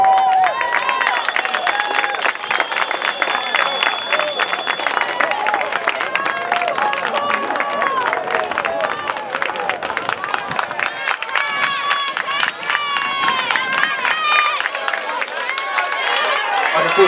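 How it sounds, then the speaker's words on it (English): Spectators at a high school varsity boys 1600 meter track race cheer and clap steadily as a runner comes down the home stretch, a loud sustained roar of shouts, whistles and applause close by. "All right, let's cheer him on down the home stretch."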